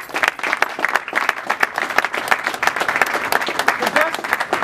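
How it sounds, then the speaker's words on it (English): Party guests at a Philadelphia rooftop gathering burst into a sustained round of applause, dense clapping mixed with cheers and crowd noise filling the whole stretch at steady loudness. "I want everybody to give a round of applause for all of ourselves for coming out"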